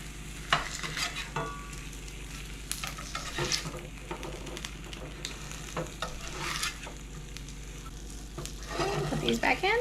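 Sausages sizzle and crackle steadily in a pan, with occasional scraping and clinks as they are stirred and turned.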